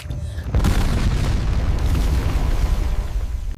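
A bomb blast erupts in a jungle battle scene, a deep, loud boom hitting after a brief quiet start and rumbling on with dense low-end roar and debris-like crackle for several seconds, with no talk.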